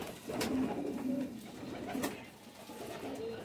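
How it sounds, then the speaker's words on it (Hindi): Imamdin Golden pigeons coo in a few soft, rolling phrases close by, with light handling noises between them and no voices. "तो पहले आपको इमामदीन गोल्डन जो कमगर कबूतर है उन्हीं को ये दिखा रहे हैं"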